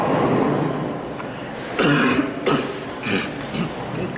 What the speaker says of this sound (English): just clearing my throat, that's all